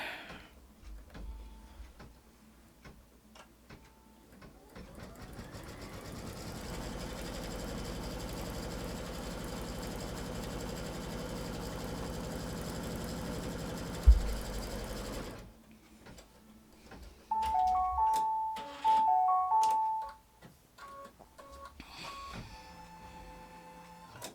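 An embroidery-style sewing machine stitches an in-the-hoop quilt block, a steady mechanical whirring hum for about ten seconds, followed by short quieter bursts of stitching and clicks, fairly faint and close.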